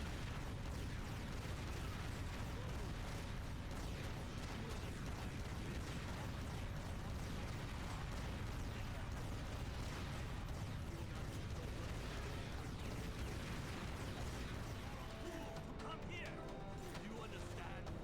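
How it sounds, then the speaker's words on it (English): Dense, continuous booming explosions and crackling blasts fill a Tomb Raider: Legend combat scene, loud and relentless throughout with no pauses. "Oh my god, the explosions."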